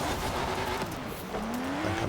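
A car drives in the racing game Forza Horizon 4, its engine droning steadily and rising in pitch as it accelerates, loud and continuous with faint tire noise and no talk.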